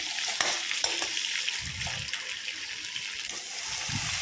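Potatoes and pork stirred in a kadai without oil, giving a steady close sizzle with scraping stirs and occasional low knocks of the utensil against the pan.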